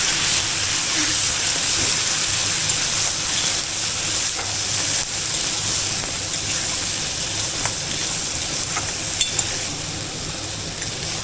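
Whole garam masala spices sizzle in hot oil for a tempering, a steady bright hiss with faint crackles running the whole time, close and fairly loud, with no talk.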